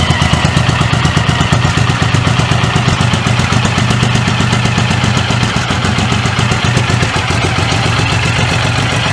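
A Suzuki Boulevard M109R motorcycle fitted with a new exhaust, running close and loud with a steady throbbing low rumble and dense rapid pulsing throughout, no voices.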